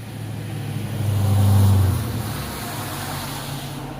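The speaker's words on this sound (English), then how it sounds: "cars are always coming by my neighborhood" A car passing on a rural neighborhood road in the Tennessee mountains, its engine rumble swelling and fading over a couple of seconds against faint background noise.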